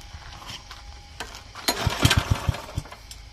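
Robin 5 hp four-stroke gasoline engine with reduction shaft, a short starting effort followed by several deep low thumping firing pulses as it catches, heard close and fairly loud.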